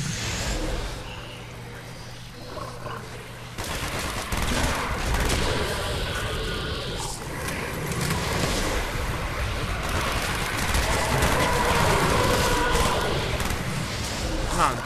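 Gunfire in the Call of Duty Black Ops Zombies video game, dense bursts of shots and action noise running throughout at a steady, loud level, with players talking over it.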